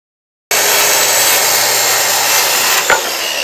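A saw cuts through a wooden piece for a roping dummy. After a brief silence, a loud, harsh, continuous rasp starts and runs evenly to the end, broken only by a small knock near the close.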